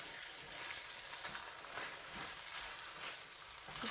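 Meat and cheese sizzle in a hot pan, a steady, fairly faint crackling hiss that holds evenly throughout with no voices.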